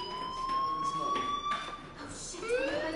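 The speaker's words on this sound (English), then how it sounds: "Hey, do you hear that fire alarm?" A school fire alarm in the video game Life is Strange rings with a steady, piercing electronic tone that holds and shifts slightly in pitch, while people talk over it.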